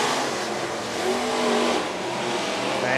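Bomber and SportMod race cars pull away at the start of a heat race at Worthington Speedway, a steady, dense engine roar with some rising revs, heard from a distance and continuous throughout.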